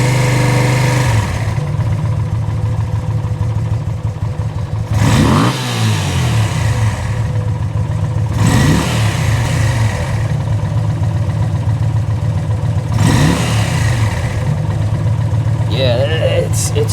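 Suzuki VL250 Bobber motorcycle with a freshly tuned pilot screw and pod filters, idling steadily and loud up close, then revved sharply three times with quick climbs and falls in pitch, responding immediately to throttle.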